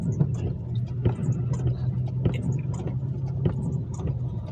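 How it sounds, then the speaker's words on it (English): A car idles nearby on an empty road with its turn signal on, the low steady engine hum running throughout under a regular soft ticking roughly once a second. "This car's just waiting here with the blinker on."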